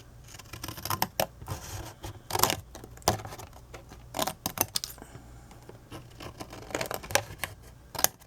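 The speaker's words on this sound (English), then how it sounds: "I'm going to go from this corner to this corner with my scissors" Scissors cut across the cardboard of a flip-lid gift box from corner to corner, giving a series of sharp, close snips and crunches in an uneven rhythm over a quiet room background.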